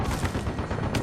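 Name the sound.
weapon shot fired in Spec Ops: The Line video game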